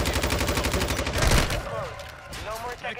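Sustained rapid automatic gunfire in Call of Duty Warzone 2, a dense loud burst for the first second and a half before cutting out, followed by scattered softer game noises and a voice talking.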